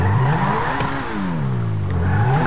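A fast car racing through a chase in GTA Online: a loud, steady engine roar with pitch rising and falling as it revs and shifts, tyres hissing beneath, no voices.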